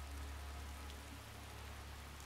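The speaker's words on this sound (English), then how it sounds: "It's now peeing down with rain." Steady, dense rain in the video game Skyrim hisses evenly without pause, a constant wash of droplets over a low hum.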